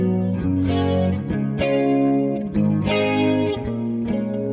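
An electric guitar played through a Quad Cortex with chorus and reverb rings out in close, loud strummed and picked chords, shimmering and slightly distorted, with each chord change sharp and sustained tails blending between them.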